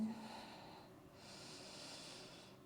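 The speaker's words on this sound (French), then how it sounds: "Quelques cycles de respiration ici." Slow, deep breathing during a floor vinyasa yoga session in downward dog, a soft inhale-exhale cycle heard up close and alone, with a faint airy, nasal quality.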